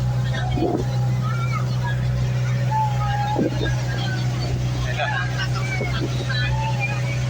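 A boat engine drones steadily with a low hum on choppy waves off Caramoan, Bicol, while people talk and call out over it, the water and motor noise constant throughout.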